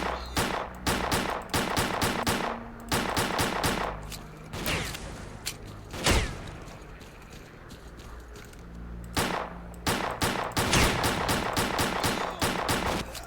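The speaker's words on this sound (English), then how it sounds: "that was a lucky shot with a shotgun" Shotgun gunfire in the video game S.T.A.L.K.E.R.: Clear Sky, a rapid string of loud, sharp blasts in clustered bursts with brief gaps, one heavier boom midway, and no talking.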